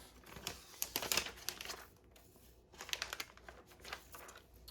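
Protective plastic film peeled off a new 13-inch Apple MacBook Pro (M1, late 2020) during unboxing, giving close crinkling and crackling in two bursts with a quiet gap between.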